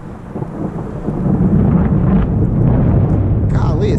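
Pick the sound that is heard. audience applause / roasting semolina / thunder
thunder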